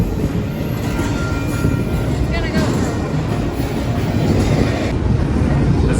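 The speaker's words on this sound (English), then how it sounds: "This is a long train." A long train rumbles steadily past for several seconds, a continuous heavy rolling noise with faint metallic clatter, fairly close, with some talk mixed in.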